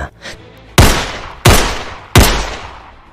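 Three loud, close gunshots ring out one by one, evenly spaced about 0.7 seconds apart, each with a sharp crack and a long booming decay, as fighters fire at aswang creatures in an action-horror story.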